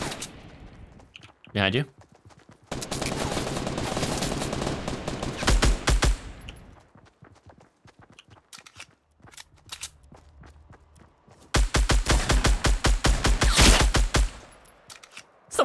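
Bursts of automatic gunfire from a Fortnite match, including a minigun, come in long rapid volleys separated by quieter stretches, with players talking over the action.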